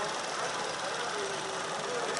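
A 1.8-litre petrol car engine idles steadily nearby at a car market in Khujand, a continuous even rumble with a faint knocking texture and a voice speaking over it.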